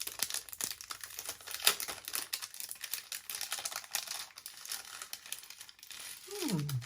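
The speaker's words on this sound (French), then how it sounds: "Attendez, je vais le déballer, je vais vous le montrer." A packaged necklace from a Sephora haul being unwrapped, with close crinkling and rustling of wrapping and a few light clicks and tears, fairly quiet with no talking.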